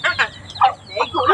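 Chickens cluck in a short run of loud, choppy calls close to the microphone, with a faint hum underneath.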